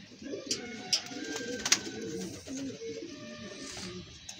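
Pigeons coo softly in a loft where young squabs are being settled, with low murmuring calls running continuously alongside a few sharp higher chirps and light rustling, all fairly close and moderately quiet.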